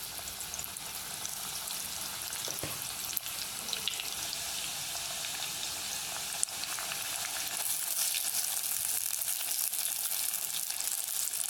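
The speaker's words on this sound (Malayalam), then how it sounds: "നമ്മൾ നല്ല ചൂടായ എണ്ണയിലോട്ടാണ് ഇട്ട് കൊടുത്തിരിക്കുന്നത്." Jackfruit pieces fry in very hot oil for crisp chakkavattal, giving a dense, continuous sizzle and crackle throughout with a few sharper pops.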